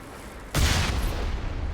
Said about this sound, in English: we can actually blow up these fuel tanks